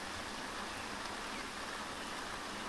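Steady rain falls in the Neo Scavenger video game, a continuous close hiss of drops with no breaks or other sounds.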